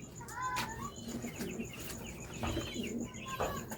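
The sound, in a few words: racing pigeons cooing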